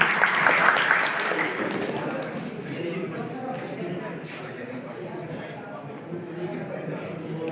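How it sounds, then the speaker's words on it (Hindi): An audience at an honoring ceremony with poetry recitation applauds, a dense clapping wash that is strongest at first and then thins and fades under a speaking voice. "जोरदार तालियां बजाइए उनके लिए।"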